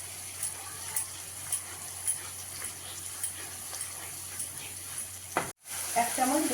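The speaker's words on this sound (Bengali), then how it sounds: "গ্যাসটা কম করে আমি আস্তে আস্তে ভেজে নেব।" Masala paste with a little sour yogurt fries slowly over a low gas flame for paneer posto, giving a faint, soft sizzle with occasional light stirring scrapes, then a brief cut and a slightly louder burst at the end.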